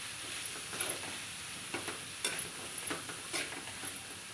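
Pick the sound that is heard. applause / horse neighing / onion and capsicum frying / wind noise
onion and capsicum frying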